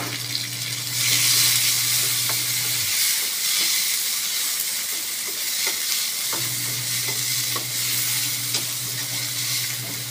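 Onion and tomato sautéing in a pan for ginisang monggo, a steady close sizzle with stirring scrapes, under a low hum that cuts out partway and returns, no voices.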